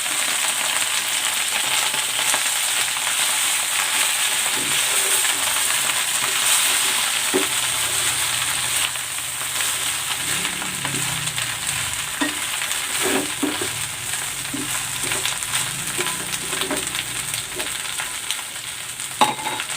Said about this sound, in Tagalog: Igigisa ko na dito itong talbos ng kamote.